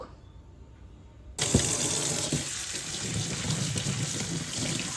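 A kitchen tap turns on abruptly and water gushes steadily over drumstick flowers being rinsed, close and loud, continuing without a break.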